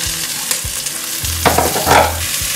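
Quartered potatoes and mushrooms with green onion fry in a pan, giving a steady close sizzle with a couple of louder bursts of hissing and scraping as the pieces are stirred.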